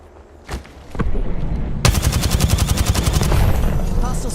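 Call of Duty: Modern Warfare II gunfire: a few isolated shots, then loud rapid automatic bursts firing in quick regular rhythm, close and sustained, with voices faintly under it.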